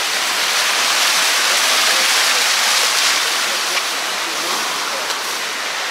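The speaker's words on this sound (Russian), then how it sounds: "Вот эта вот вся река вытекает в море." Floodwater from a river swollen by a downpour rushes into the sea across a washed-out beach in Sudak, Crimea, a loud, constant broadband roar of churning water close by with no letup.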